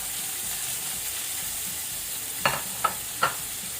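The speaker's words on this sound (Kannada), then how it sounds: "ಈರುಳ್ಳಿ ಬೇಗ ಫ್ರೈ ಆಗ್ತದೆ." Onions frying in a pan on low to medium heat give a steady soft sizzle, broken near the end by three sharp clicks of a spatula against the pan.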